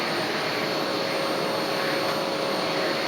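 A vacuum cleaner used on a carpet at home, a loud, steady whooshing whine with a constant high tone and unbroken airflow roar, close and uninterrupted.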